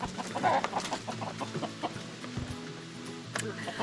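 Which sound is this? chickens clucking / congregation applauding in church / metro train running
chickens clucking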